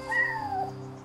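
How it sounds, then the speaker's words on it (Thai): A cat meows once in the Yonder: The Cloud Catcher Chronicles game, a short rising-then-falling tonal call heard clearly over a soft humming background. "เอ้ยเสียงแมวเสียงแมวเสียงแมว"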